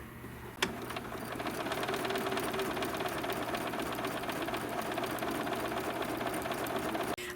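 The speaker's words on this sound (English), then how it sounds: "we're just going to stitch all the way around with a" A sewing machine runs steadily, stitching a quarter-inch seam around a Kimberbell trapunto pillow, with a fast, even motor hum and needle rhythm that starts with a click and holds close and constant for several seconds before stopping.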